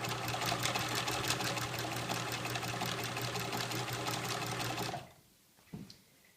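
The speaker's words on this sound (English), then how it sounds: "Then just press down on the foot pedal and start winding." Janome New Home sewing machine winding a bobbin, a steady loud whirring hum running for about five seconds, then stopping abruptly, followed by a quiet room and a single soft click.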